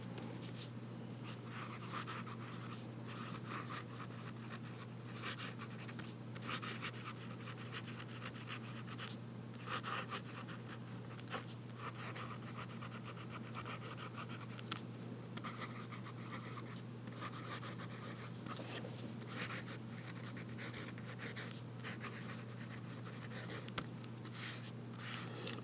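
Fountain pen scratching steadily across paper with wet Blackstone Black Stump ink, forming looping letters; a close, continuous soft scratch with brief pauses between strokes, over a low steady hum and no talking.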